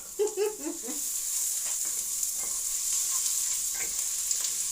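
Onions frying and caramelizing in a pan, a steady bright sizzle with a few stirring scrapes near the start, close and constant with no talking.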